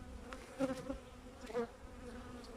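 Honeybees buzzing around an open hive with drones present, a faint steady hum with a few louder close passes as individual bees fly near.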